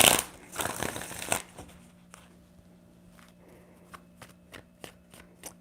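Tarot cards are shuffled up close in a quick riffling burst at first, followed by softer intermittent taps and shuffles of the deck with quiet pauses between.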